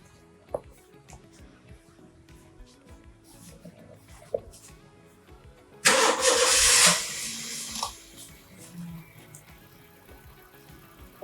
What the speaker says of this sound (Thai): แล้วจากนั้นทำการสตาร์ทรถได้